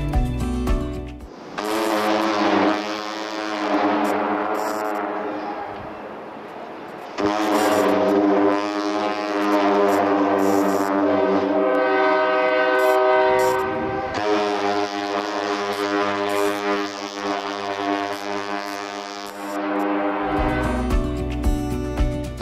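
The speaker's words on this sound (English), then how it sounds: "I didn't want to talk over that gorgeous Typhon steam whistle" A deep, powerful Typhon ship's steam whistle blasts in long sustained tones, broken by brief pauses, loud and resonant with no voices.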